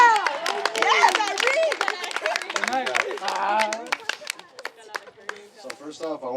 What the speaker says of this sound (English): Let's give a round of applause to all the people that gave us speeches